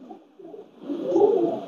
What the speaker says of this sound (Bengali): টেডি আমার ফেভারিট কবুতর